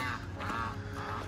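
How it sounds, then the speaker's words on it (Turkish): Ducks quacking and honking repeatedly over a steady outdoor background at a pond in a German village, calls rising and falling in bursts, fairly close and moderately loud. "Ördekler."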